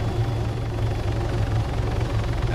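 An AI-piloted helicopter lifts off in Arma 3, its low rotor thump and engine drone steady and loud for the whole stretch, with no talk over it.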